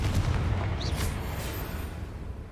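Stupefy and Bombarda spells cast in rapid succession in the Hogwarts Legacy video game, with booming, gunfire-like impacts and a sharp whoosh near the start before the rumble settles into steady battle noise.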